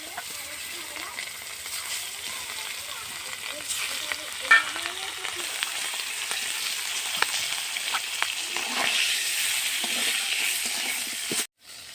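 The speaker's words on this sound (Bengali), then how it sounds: "বাদ বাকি যেগুলো আছে সেগুলোকেও ভেজে নিচ্ছি।" Queen fish fries in hot oil for a fish-and-potato curry, giving a steady, close crackling sizzle that holds evenly throughout with small pops and a brief utensil clink, then cuts off abruptly near the end.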